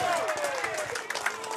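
Crowd applause at a lawn bowls pennant grand final, a steady broad wash of clapping and crowd noise throughout, with voices mixed in.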